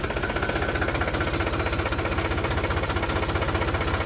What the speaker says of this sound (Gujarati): કેટલા દિવસથી ટ્રેક્ટર પડ્યું તો આજે ચાલુ કર્યું.